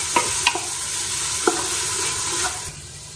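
Chopped tomato and carrot stir-frying in a pan for veg pulao, a loud continuous sizzle with a few sharp spoon scrapes and knocks against the pan.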